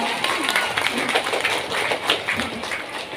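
An audience at a mosque sermon claps steadily throughout, a dense, close wash of many hands with a few louder accents.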